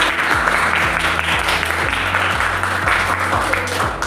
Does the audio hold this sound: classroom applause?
yes